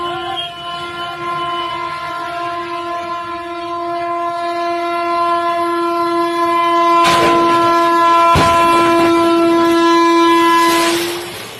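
A train runs past a road crossing where it struck a lorry in Deoghar district, Jharkhand, sounding a long, loud continuous horn over rolling rumble and clattering wheels that grow nearer and louder, with sharp clanks near the end.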